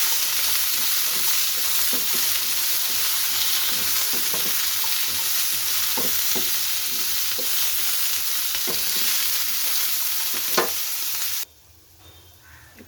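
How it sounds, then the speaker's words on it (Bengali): Vegetables sizzle as they roast in a little oil in a pan, a continuous close frying hiss punctuated by regular spatula scrapes and taps, cutting off abruptly near the end. "তেলে সবজিগুলো একটু ড্রাই রোস্ট করে নিচ্ছি। হালকা করে একটু ভেজে নেব।"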